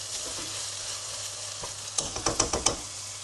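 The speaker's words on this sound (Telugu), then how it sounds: "ఈ ఆనియన్స్ కొంచెం ఫ్రై అయ్యాక ఇందులో మటన్ వేసి మనం మటన్ని బాయిల్ చేసుకుంటున్నాం" Onions and mutton fry in a pan with a soft constant sizzle under a low hum, then a quick run of sharp scraping stirs near the end.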